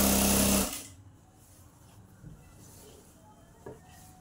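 A sewing machine stitches a Kolhapuri-style Navuvari nine-yard saree in a loud, rapid, steady whir that stops abruptly after half a second, leaving quiet room noise with faint scattered handling sounds.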